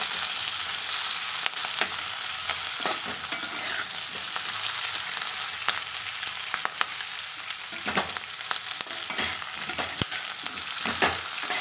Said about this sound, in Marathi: मिरची छान फ्राय होऊ द्यायची.